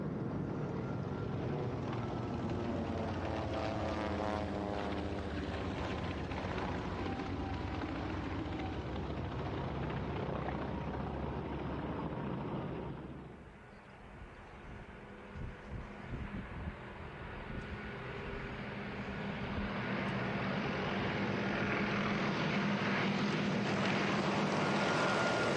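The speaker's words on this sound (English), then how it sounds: "World War II fighters from the Grumman Ironworks. F-3F, Wildcat, Avenger, Hellcat, Tigercat, and Bearcat." Several Grumman World War II fighters, including an F3F, Wildcat, Avenger, Hellcat, Tigercat and Bearcat, fly in formation at an airshow, their piston engines a loud sustained roar that dips briefly midway before swelling again.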